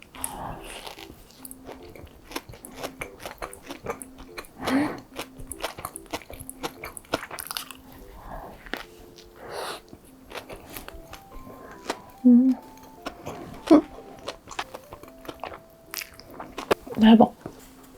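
Crisp bites and steady chewing of a Dunkin Dubai chocolate donut, close to the mic, with crunchy snaps at several points and someone talking between mouthfuls.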